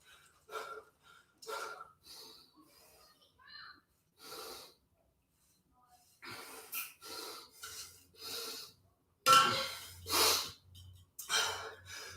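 Heavy breathing after a heavy dumbbell and jump rope leg workout, a series of hard gasping breaths and snorting exhales in uneven bursts, close and loud, with pauses between.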